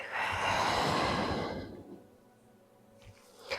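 A long, loud breathy exhale during a home back-exercise workout, close to the microphone and fading out after about two seconds, followed by quiet and a small breath or shuffle near the end.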